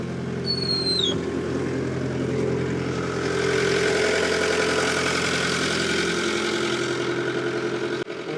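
A Bobcat T870 compact track loader sits idling with a steady, rumbling diesel drone that holds an even, moderately loud level throughout, heard up close with no one speaking.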